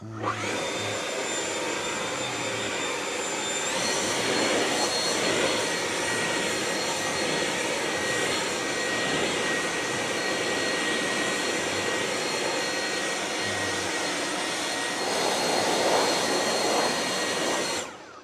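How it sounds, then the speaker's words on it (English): ECHO 56V battery backpack leaf blower running on turbo, a continuous loud whooshing roar with a high whine that holds steady throughout, with no voices. "it's going to be a good test to see how the battery powered backpack blower performs"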